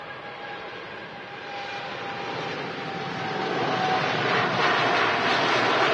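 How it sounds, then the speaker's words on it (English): A TUI Boeing 787 Dreamliner departing Manchester Airport, a steady broad jet engine roar that grows gradually louder as the aircraft rolls and lifts, heard from outside at a distance with no talk. "Dreamliner next to depart."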